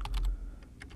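Several keystrokes clack on a computer keyboard while a formula is entered into a spreadsheet cell. The quick, light taps come in two small clusters, close and quiet, with no talking.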